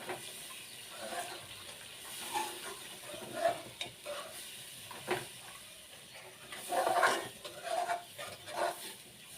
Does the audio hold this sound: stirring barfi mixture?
yes